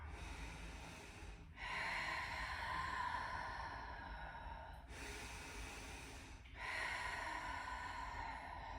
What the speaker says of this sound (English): One more big breath in.